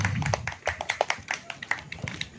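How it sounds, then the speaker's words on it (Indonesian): Scattered clapping from an audience welcoming a female guest onto a talk show set, uneven claps in a loose rhythm with some low background murmur. "Tepuk tangan dong. Tepuk tangan buat Mbak Erni."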